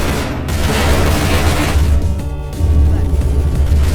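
Bomb explosions in the online game Criminality land as heavy, close booms and bursts, with a brief dip before another loud rumbling blast.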